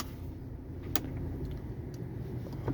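A car engine idles quietly at a driving lesson, a low steady rumble with a few small clicks and knocks from inside the car.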